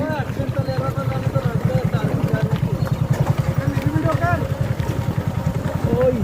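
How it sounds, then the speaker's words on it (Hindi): Royal Enfield Himalayan motorcycle idling close by with a steady, rapid thumping pulse that holds evenly through the whole stretch, with faint voices underneath. "ओ खतरनाक बाइक है इधर, हिमालयन"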